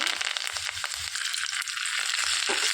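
Curry leaves, a dry red chilli and tempering seeds sizzle in hot oil for a Telugu-style tempering, a bright, steady crackling hiss close by with small pops, heard on its own.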